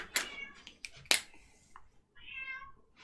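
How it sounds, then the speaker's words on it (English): A cat meows a few times up close, short and fairly loud, with faint room noise between the calls. "Cat, I'm gonna pick you up."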